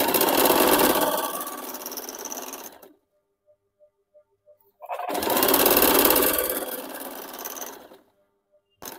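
Sewing machine stitching a petticoat seam at half an inch, two close bursts of fast, steady whirring separated by a short quiet pause with faint clicks.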